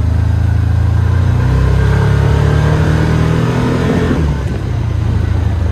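A 2022 Can-Am Commander XMR 1000R side-by-side engine revs and accelerates loudly and close up, a steady droning roar that holds throughout with a slight dip near the end, with no talking.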